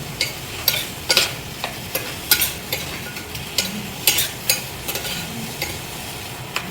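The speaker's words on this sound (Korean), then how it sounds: "이렇게 좀 볶다가 굳이 막 센 불에 다 안 익혀도 되거든요" Mushrooms, garlic and onion sautéing in oil in a pan, giving a steady soft sizzle with repeated clicks and scrapes of a stirring utensil, close up and with no voices.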